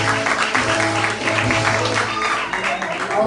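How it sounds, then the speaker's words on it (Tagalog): Applause for a graduate at a youth graduates appreciation event, steady clapping from a modest crowd with voices and music-like tones running underneath. "Humihina palakpak"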